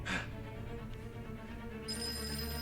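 A telephone rings in a TV episode, a bright trill at the start and a steady tone later over a low background hum, with no one speaking.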